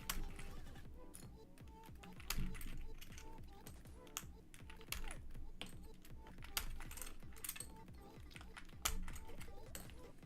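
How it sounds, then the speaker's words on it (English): Keycaps are pried off a computer keyboard, producing quiet, close, irregular plastic clicks, snaps and small rattles scattered throughout. "I'm taking apart my keyboard, like taking the keycaps off"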